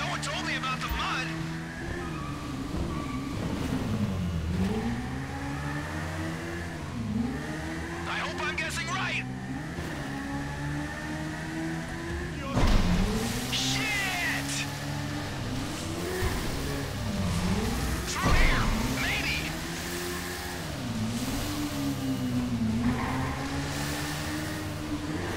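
Motorbikes ride through mud in GTA V, engines droning and revving with wheel-spin and splashing bursts, steady and close, with voices talking over the engine noise throughout.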